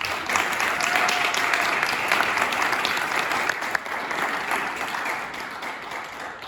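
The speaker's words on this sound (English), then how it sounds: "Another hand of applause, please, for Dr. Hannifan." A concert audience breaks into strong, sustained applause, a thick even roar of many clapping hands that stays loud for several seconds and eases off slightly toward the end.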